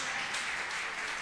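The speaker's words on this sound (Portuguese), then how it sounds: "Dá um aplauso a Jesus Cristo" A church congregation at a Portuguese-language worship service breaks into applause: dense, steady clapping from many hands filling the room for a brief moment.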